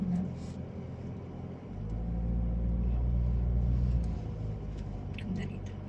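Steady road traffic near the Tanay overlook: a low engine rumble swells as a nearby vehicle passes and then eases back, with voices chatting faintly on and off.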